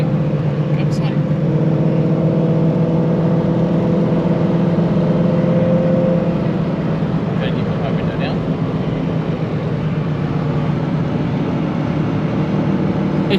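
A Corvette engine drones steadily at close range on the road during a drift trip, a continuous loud hum that eases off midway, with people talking over it.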